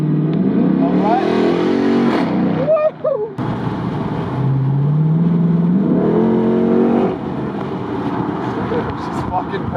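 An SRT8 car engine revs hard twice through its exhaust, its pitch climbing with each push, loud and close, with voices talking around it.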